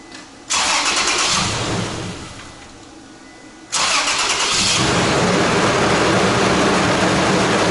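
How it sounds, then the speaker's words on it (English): A Toyota Tacoma truck engine cranks and catches, with a loud broadband start that fades, then a second start that settles into a steady, loud running roar. "Alright, so let's start this vehicle."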